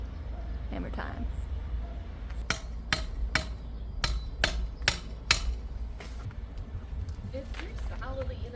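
A metal stake is hammered into yard ground with about eight sharp, close blows in a steady rhythm, over low background noise and faint voices.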